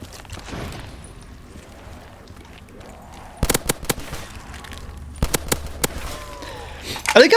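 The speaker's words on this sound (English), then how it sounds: "I kind of wish that the guns had a little bit more of a harder hitting sound to them" Sharp bursts of gunfire from a custom zombies map in a shooter game, several quick shots in two clusters and a final flurry, with a voice talking throughout.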